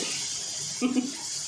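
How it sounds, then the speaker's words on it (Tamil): Cooked moong dal is poured slowly into a pot, making a soft, continuous watery pouring hiss close by, with a brief voice speaking midway. "பாசி பருப்பு வேக வச்சுருக்கேன்னு ஊற்று மெதுவாக ஊற்றுங்க"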